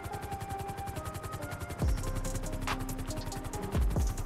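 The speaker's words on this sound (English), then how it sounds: "try to swing this helicopter in there while dodging these meteors" Helicopter rotor chop pulses steadily through a GTA 5 flight over the White House amid a meteor shower, joined by two loud crashing impacts near the middle and end.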